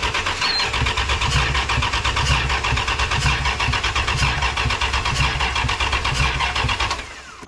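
A 1996 Ram truck engine, jump-started from another truck's battery, turns over and catches, then runs loud and steady close by with a busy mechanical rumble before easing off at the very end.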